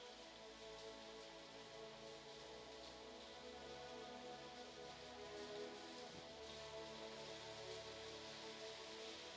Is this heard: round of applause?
no